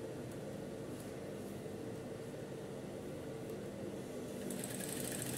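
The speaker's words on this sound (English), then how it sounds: "So I'm sewing my crinoline." A sewing machine stitches a crinoline in a steady, even whir, faint and continuous without breaks, with a brief brighter rattle near the end.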